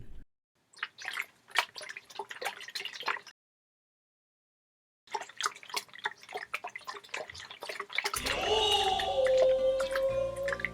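Water poured onto garden plants at home, a dripping, splashing stream that comes in two bursts separated by a pause, then gives way to a louder, steadier rushing flow.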